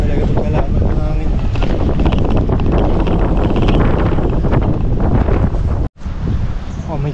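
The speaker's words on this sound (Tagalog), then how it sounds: "Hirap talaga pagkalaban ng hangin." Strong wind buffets the microphone with loud, continuous roaring rumble on an uphill route toward a mountain view deck, cutting out for a moment before resuming, while someone speaks faintly underneath.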